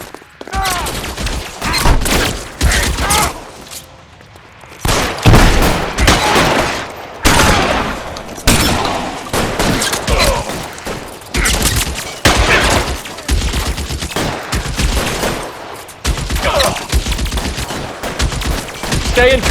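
Heavy gunfire rings out in the L.A. Noire video game as repeated bursts of loud, close automatic shots come in long clusters with brief pauses between volleys, with occasional shouted voices mixed in.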